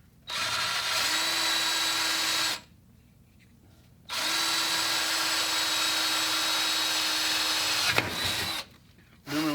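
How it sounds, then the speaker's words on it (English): A power drill drilling aluminum whirs steadily in two long bursts with a short pause between, then a brief spin-up at the end; loud and close, no talking. "So I'm gonna start my drilling."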